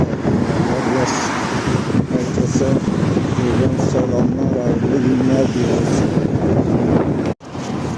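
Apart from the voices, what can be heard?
strong wind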